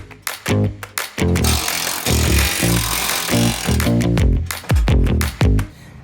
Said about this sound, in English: I'm going to be using a Torx T45 bit to remove the 5 bolts securing the